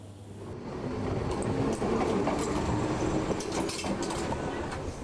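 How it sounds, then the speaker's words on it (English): A passenger train near the Bay of Naples rumbles steadily along the tracks, with faint rhythmic clatter and a continuous low roar, heard from inside or close by. "We board the train once more to our destination"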